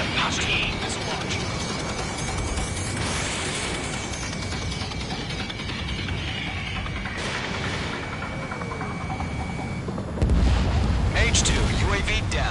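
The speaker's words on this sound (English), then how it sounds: "Missile launch." A missile launching amid explosions in the combat flight game Ace Combat, a dense continuous roar of jet and blast noise that swells into a heavier burst near the end.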